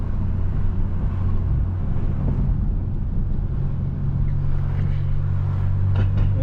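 An 8th gen Honda Civic Si drones with a steady low engine rumble while driving, constant and close with road noise underneath.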